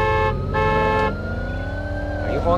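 A loud car horn blares in steady harmonic blasts in the video game Arma 2, cutting off briefly, then a wavering engine-like tone rises and falls, with no talking.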